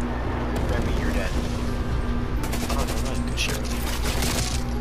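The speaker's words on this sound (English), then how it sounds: "He's using his airstrike." Airstrike explosions and heavy gunfire rumble in a video game search-and-destroy match, a dense, continuous barrage with booming blasts and sharp bursts throughout, mixed under game audio.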